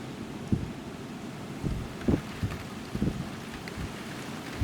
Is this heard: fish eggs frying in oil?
no